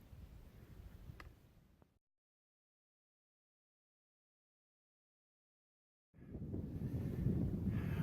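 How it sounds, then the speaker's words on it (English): Wind gusting at Shuckstack Fire Tower, a mountaintop lookout, roars as broadband rumble in two bursts separated by several seconds of silence, with the second blast louder and steadier. "Okay, it's very windy up here."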